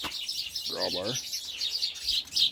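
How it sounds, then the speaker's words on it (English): Bright, busy bird chirps chatter continuously in the background while someone briefly speaks nearby. "Birds are kind of pissed off at me."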